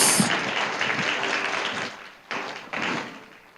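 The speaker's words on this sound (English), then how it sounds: "So once again, a round of applause." An audience claps at a signing ceremony for an open parliament joint declaration, closing a forum. The applause starts full and then fades, with two brief fresh bursts of clapping near the end.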